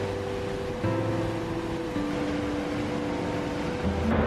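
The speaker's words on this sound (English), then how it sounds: "rising sound from the river was spooky" Steady broadband rush of a river in the Nepal mountains, continuous and fairly loud, with faint tonal hums layered over it and no voices.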